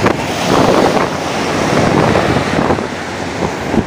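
Ocean waves at Pandawa Beach, Bali, make a loud, rolling wash of surf, heavily mixed with wind buffeting the microphone across the whole stretch, with no voices.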